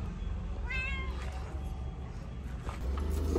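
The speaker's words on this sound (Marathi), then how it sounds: "ममची मांजर कशी म्याव म्याव करते" A cat meows a few times in a shop just after it has opened, the cries clear and close over steady background noise.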